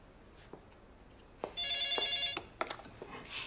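A telephone rings indoors with a short electronic trill, sounding for about a second amid a few soft knocks and handling noises.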